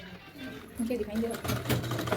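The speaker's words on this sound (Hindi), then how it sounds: "अब हम इसकी सिलाई कर देंगे।" A sewing machine stitches a katori-cut blouse, its steady rapid whir running close by beneath someone speaking Hindi.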